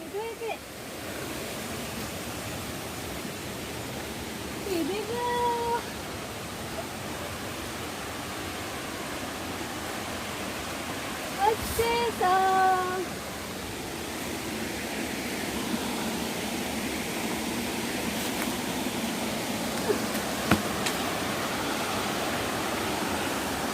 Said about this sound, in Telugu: జలపాతం దగ్గరికి వచ్చేసాం